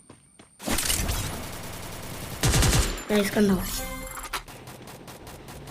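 Rapid bursts of automatic gunfire and sharp impacts from the mobile battle game Free Fire crackle loudly in clusters, with a player talking briefly at the start.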